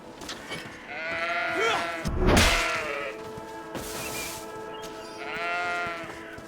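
Sheep bleating several times in the game Greedfall, with a sharp whoosh and thud midway, over a steady background and a voice talking.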